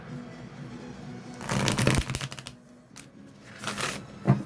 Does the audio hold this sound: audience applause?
no